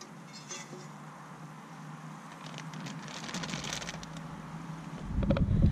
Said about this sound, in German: Jetzt wird es Zeit, den Reis abzugießen.